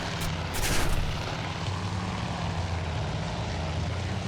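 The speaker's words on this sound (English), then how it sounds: "You can see our torpedo bombers desperately trying to escape. Looks like he has two or three zeros behind him." Aircraft engines of torpedo bombers chased by Zeros in Task Force Admiral drone steadily and loudly, a low propeller rumble with a short swelling roar near the start as planes pass close.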